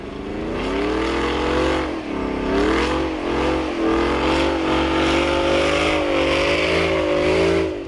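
Supercharged 5-litre Ford Coyote V8 running close and loud in a desert setting, its steady whine and throaty exhaust rising and falling through several revs without pause.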